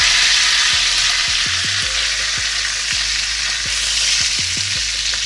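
Thick-sliced Costco bacon frying in a Range Mate Pro, a loud steady sizzle and crackle close up, with faint low clicks and pops scattered through it and no talk.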